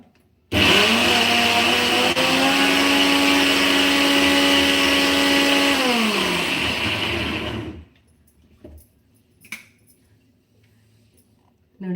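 A kitchen mixer grinder whirs loudly and steadily while grinding dry Kannada-style chutney powder (chutney pudi), its pitch dropping as it winds down and stops, followed by faint clinks and handling noises.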